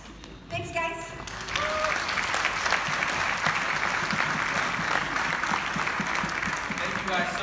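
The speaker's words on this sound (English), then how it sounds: "One last round of applause for our Vice President." Audience applause at a morning show. A voice is heard briefly at the start, then a crowd breaks into sustained, even clapping that swells and holds loud and close to the end.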